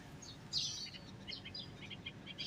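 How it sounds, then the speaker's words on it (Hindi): Morning birdsong around a yard with chickens and crows, heard as a series of small high chirps and tweets, moderately distant and soft over a quiet background. "सुबह सुबह मुर्गियों की आवाज़ें, चिड़ियों की, कौवों की कितनी अच्छी लगती है"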